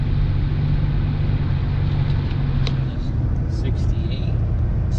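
Ford Ranger that sat for three years idles at about 2,000 rpm, a steady low engine hum running throughout under people talking nearby.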